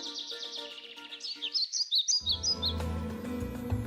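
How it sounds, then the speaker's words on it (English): Several small birds chirp and call in quick bright bursts, close and fairly loud, with a run of rapid tweets in the middle before a low rumbling background takes over at the end. "Crows crowed, doves cooed, chickens clucked, owls hooed, robins chirped, pheasants whirred."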